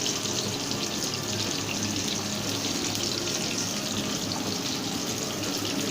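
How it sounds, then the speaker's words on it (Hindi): Chapli kebabs fry in a pan of hot oil with a loud, dense, steady sizzle that continues without a break, close by and with no talk over it. "चपली कबाब को फ्राई करते हुए बहुत ही अच्छी खुशबू आ रही है।"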